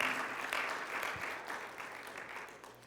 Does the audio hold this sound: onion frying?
no